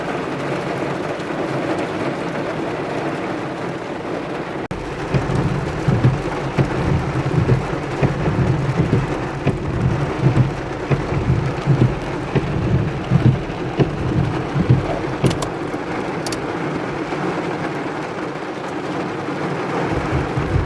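Heavy rain pours steadily while low thunder rumbles and rolls through the middle, loud and close, with no voices.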